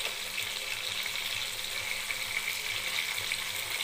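Hilsa fish frying in oil, giving a continuous close sizzle with faint bubbling crackle, steady and even throughout with no voices.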